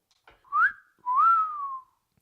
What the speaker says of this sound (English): Good whistle. I've been doing some whistles.